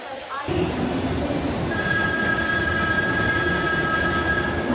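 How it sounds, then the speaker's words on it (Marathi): A train pulls into a station in Mumbai, a steady loud rumble rising after a brief quieter start, with a sustained high metallic squeal of wheels during the latter half. "चल आता आपलं ट्रेन येणार आहे"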